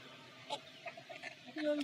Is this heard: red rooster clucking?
yes